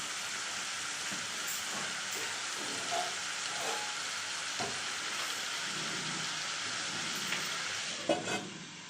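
Winter leafy greens fry in a pan with a steady bright sizzle, punctuated by soft scraping and clinking as they are stirred; no voices.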